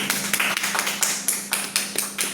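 Rhythmic clapping for direct selling, a few loud sharp claps in a steady beat close by, over a faint constant hum.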